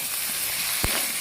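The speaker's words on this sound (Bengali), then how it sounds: "এবারে মশলাটার সাথে দিয়ে দেবো আমি টমেটোর কাটা।" Three chopped tomatoes hit a pan of frying spice paste for vegetarian moong dal khichdi, giving a steady close hiss and sizzle with a brief sharper burst near the end.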